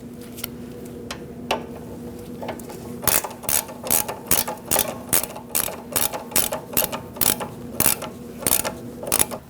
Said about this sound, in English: I'm going to use my ratchet wrench to tighten this up